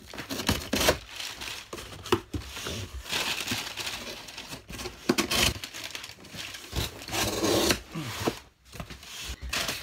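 A cardboard shipping box holding books has its edges cut with a blade, giving steady scraping, crinkling and tearing sounds with short pauses between cuts, close and fairly loud throughout.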